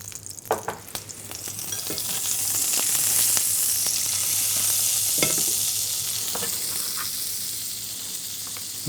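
Butter and oil sizzling steadily in a frying pan, a loud, even hiss that builds after a few light clinks at the start and holds throughout, close up with no talking.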